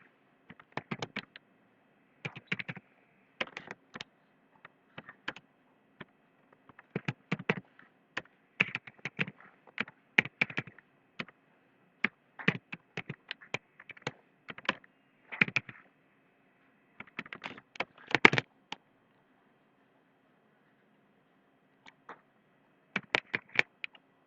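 Someone types CSS on a computer keyboard in quick bursts of light, close keystroke clicks, separated by short pauses, with no other sound between the bursts.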